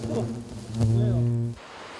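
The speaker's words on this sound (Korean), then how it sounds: "벌들이 소리 듣고 지금 외벽으로 많이 나와 있네" Hornets swarm out onto the outer wall of a wild nest on a cliff face, giving a loud, steady buzzing drone that holds for about a second and a half and then cuts off sharply.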